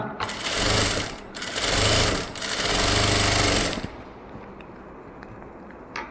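Sewing machine stitching synthetic lining cloth for a blouse: three loud, fast, rattling runs of stitching separated by short pauses, then quiet.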